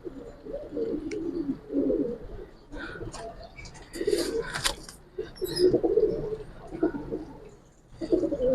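Giribaz tota-style pigeons coo in soft, repeated low bursts at close range, with some brief higher chirps and wing or cage clatter between them.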